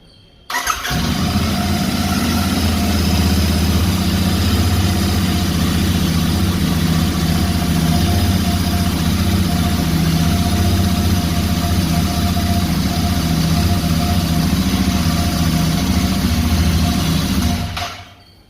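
Royal Enfield Interceptor 650 motorcycle engine idling steadily and loudly close by, a continuous low rumble throughout with no talking, cutting off at the end.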